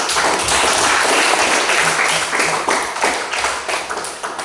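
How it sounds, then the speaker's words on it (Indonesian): A school class bursts into close applause after a student group's presentation during a teaching-practice lesson, a dense patter that holds steady and then thins into looser, uneven claps toward the end. "tepuk tangan"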